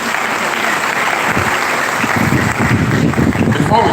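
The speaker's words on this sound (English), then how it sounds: "Can we give a better round of applause for our celebrant today?" Sustained audience applause at a university professor's retirement ceremony, a dense, steady clapping of a large crowd that carries through the whole stretch, with a few louder bursts near the end.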